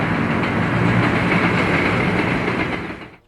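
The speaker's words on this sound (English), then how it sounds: "This large electric locomotive with 4 trucks was purchased secondhand from the Oregon" A large vintage electric locomotive with four trucks rolls on rails, a loud steady rumble with rhythmic wheel clatter that fades out abruptly at the end.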